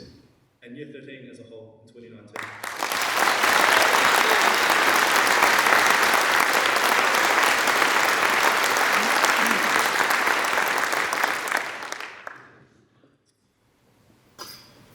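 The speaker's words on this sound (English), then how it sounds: "Could we please give another round of applause for the leadership shown by Mr. Dooley, the prefects, and Year 13 as a whole in 2019." A school leavers' ceremony crowd bursts into a loud, sustained round of applause that swells after a brief quiet start, holds dense and full for about nine seconds, then fades out, with a few coughs around it.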